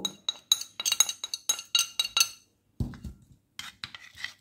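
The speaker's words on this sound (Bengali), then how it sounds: "গুলে নিচ্ছি ভালো করে" A spoon clinks against a bowl while chili, cumin and turmeric powder is stirred into a paste, giving a quick run of bright metallic taps, a short pause and then a few more scattered clinks.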